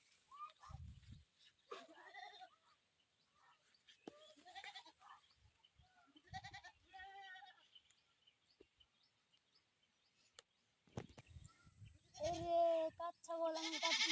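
A goat grazing in a rural spot gives several separate bleats, wavering and nasal, fairly close, spread across the stretch between quiet gaps, with a person talking at times.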